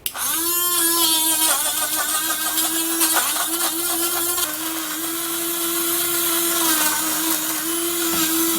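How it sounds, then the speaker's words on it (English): Electric blender whirring steadily as it blends a homemade skincare mixture, a loud sustained motor whine with a gritty churning texture early on that smooths out as it runs, no talking. "So I'm going to be blending it."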